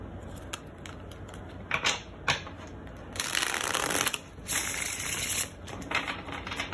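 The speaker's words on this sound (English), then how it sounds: "One more shuffle." Cards shuffled up close in brisk riffling bursts, a few quick flicks and then longer sustained shuffles, with no one speaking.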